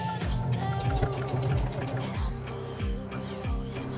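A sewing machine stitches a hem on corduroy with a rapid, continuous mechanical whir and rhythmic thumping of the needle, loud and close throughout.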